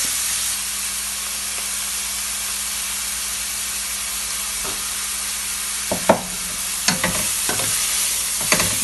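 Black pepper and salt frying in a pan for lobster mac and cheese, a continuous close hiss of sizzling, with a few sharp spoon or pan knocks near the end.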